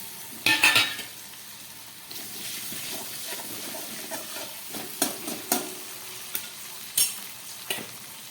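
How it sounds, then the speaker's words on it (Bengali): Potatoes fry in oil in a pan, a steady sizzle with repeated sharp metallic clinks and scrapes of a spatula against the pan at irregular intervals, close and fairly loud. "এর মধ্যে আমি আবার একটু তেল দিয়ে দিলাম, দিয়ে এই আলুগুলো একটু ভেজে নিচ্ছি"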